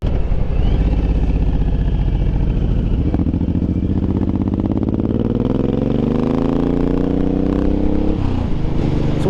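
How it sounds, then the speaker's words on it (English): A Suzuki M109R motorcycle's exhaust roars loudly while riding, a deep, throaty engine note that holds steady, then rises in pitch as the bike accelerates, and drops off sharply near the end. "This is where I like to use the exhaust and make noise,"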